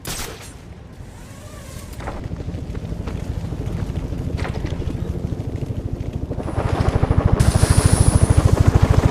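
Helicopter in the video game Batman: Arkham Origins, a steady rhythmic rotor chop that thickens and grows louder toward the end amid wind-like rushing noise, with no talk.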